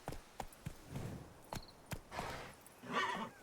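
Geralt's horse Roach in The Witcher 3: Blood and Wine neighs and whinnies over sharp hoof clops, with several distinct hoofbeats and a louder whinny near the end, heard close and fairly quiet.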